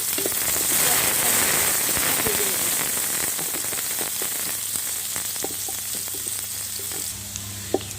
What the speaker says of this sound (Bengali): পেঁয়াজটাকে আমি কিছুক্ষণ ভেজে নিয়েছি